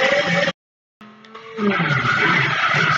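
A Corvette race car's engine roars close and loud, with a high tire squeal as it overtakes, cut by a brief gap of near silence before the noise builds again.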